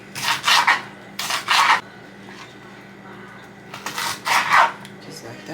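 A knife slicing a yellow pepper on a cutting board, three bursts of crisp crunching cuts close by. A short quiet gap separates the second and third bursts.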